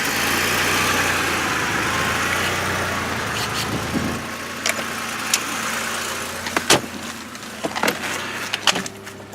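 Engine of a Porsche 911 idling nearby with a steady mid-pitched hum, then the hum drops away and sharp mechanical clicks and clunks follow.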